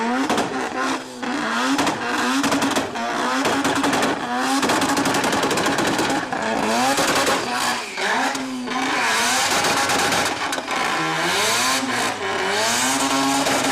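Engine of the 100AD VZ212 drift car in the CarX racing game revs hard and repeatedly, rising and falling with each gear and throttle change amid tire squeal, loud and continuous for about fourteen seconds.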